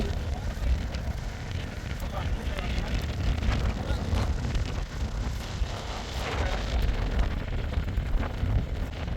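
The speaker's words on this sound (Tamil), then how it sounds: "காற்று எப்படி இருக்குன்னு பாருங்கள்" Strong wind blowing at the seashore, where fishermen haul a small shore net; a loud, steady broadband roar with gusty buffeting against the microphone that persists throughout.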